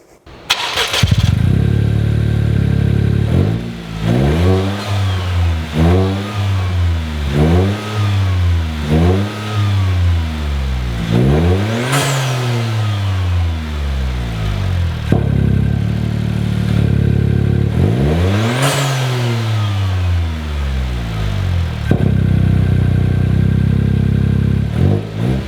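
A Toyota GR Corolla's turbo engine with an MST intake revs repeatedly, rising and falling blips close by, then longer climbing pulls with whooshing turbo release between them, loud throughout with no talk.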